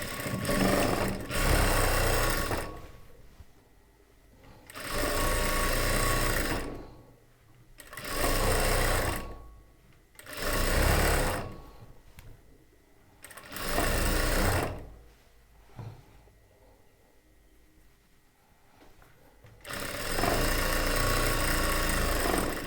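A sewing machine stitches both sides of a churidar top together in about six separate bursts of steady whirring, each a few seconds long, with quiet pauses between them.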